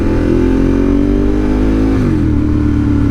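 A 2022 Yamaha R7 motorcycle engine hums steadily up close, then drops revs sharply as it downshifts, with a quick blip and a lower, settling drone afterward.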